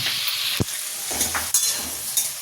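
A simple white potato curry sizzles steadily in a pan on a home stove, with a few sharp stirring scrapes and clicks breaking through the continuous frying hiss.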